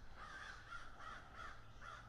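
Crows caw outdoors in a steady series of about five rhythmic, fairly distant calls against a low background rumble.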